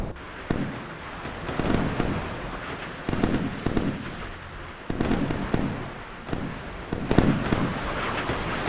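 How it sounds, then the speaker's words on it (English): Anti-aircraft flak bursts in the Sea Power naval combat game: a rapid, continuous barrage of sharp popping explosions, dense and fairly loud, with heavier clusters arriving every second or so. "They're trying to create a flak screen"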